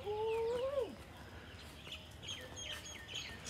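Chickens in a village on an early morning, one hen giving a quick rising then falling squawk up front, followed by fainter chirps and bird calls over a low background rumble, fairly quiet overall.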